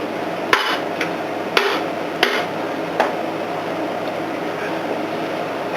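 A Snap-on hammer strikes metal while setting something down into gear teeth, giving four sharp, separated clanks over a steady background hum, with no talk.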